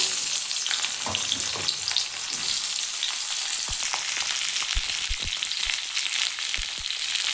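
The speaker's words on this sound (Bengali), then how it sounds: "তেলটা গরম হলে আমি ফুলকপিটা একটু ভেজে নেব" Cauliflower florets frying in hot oil in a wok with a dense, steady sizzle, punctuated in the second half by sharp clinks and scrapes from a utensil stirring against the pan.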